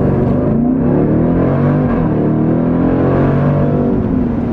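Supercharged engine of a 2018 Jeep Grand Cherokee Trackhawk pulling hard under acceleration on a bumpy back road, a loud, steady, rising drone with whining harmonics that climb in pitch throughout, no voices over it.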